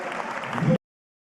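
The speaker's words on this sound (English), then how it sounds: "Pernilla Harder gets a big round of applause from the Bayern campus" Spectators applaud at a women's Bundesliga football match between Bayern Munich and Hoffenheim, a brief wash of crowd clapping under commentary that swells slightly before cutting off abruptly.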